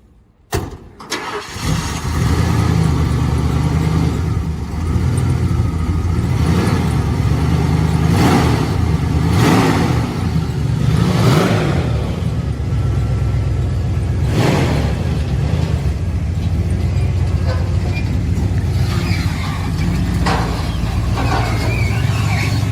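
A car engine cranks and catches, then settles into a loud, steady running drone close by as the car pulls away with its parking brake released. No one speaks over it.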